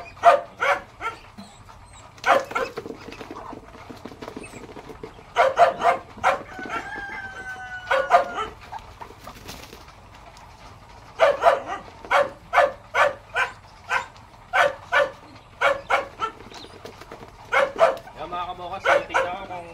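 A dog on a small mini farm barks in repeated bursts, with rooster crowing and a voice talking in between.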